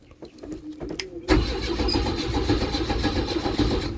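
A 1986 Bayliner Trophy boat engine starter cranks briefly, then the motor rough-catches and runs loudly and unevenly, close by, after a few faint clicks.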